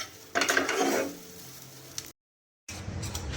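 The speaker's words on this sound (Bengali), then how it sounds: "এই যে ওটসগুলোকেও দিয়ে দিলাম জাস্ট একটু হালকা তেলে নেড়ে চেড়ে একটু জলের ছিটা দেবো" Oats being stirred and fried in a little oil in a pan, giving a loud scraping sizzle up front that settles into a softer steady frying hiss, briefly cut to silence before resuming.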